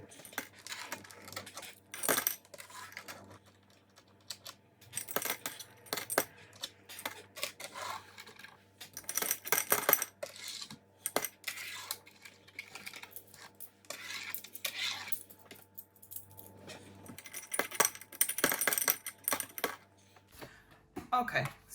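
Coins dropped by hand into a pot during cash stuffing, a long run of metallic clinks and jingles in irregular bursts, close and fairly loud, with quiet pauses between handfuls.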